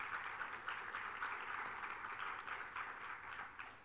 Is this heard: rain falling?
no